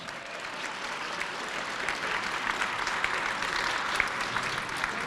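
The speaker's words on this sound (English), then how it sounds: "Give her a round of applause." An audience applauds at an event honoring State Representative Leslie Love, a steady, dense clapping that holds evenly for about five seconds without voices on top.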